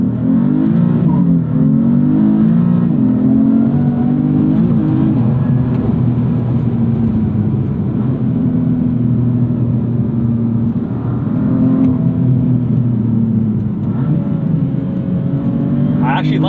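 A 2016 BMW M3 F80 engine drones steadily and builds under load, a continuous low rumble with rising harmonics running throughout, close and loud.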